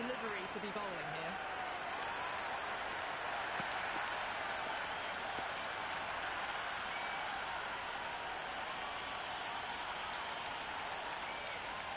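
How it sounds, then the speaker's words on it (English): Simulated stadium crowd in the Cricket 26 video game during a Namibia vs Scotland T20 World Cup warm-up, a dense, continuous roar of cheering and applause that stays loud and even throughout. "It's evident and ever so audible that the crowd is at near bursting point at today's play."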